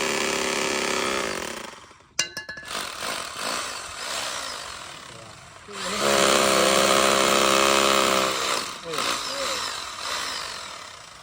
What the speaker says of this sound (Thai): กำลังเจาะอยู่จริง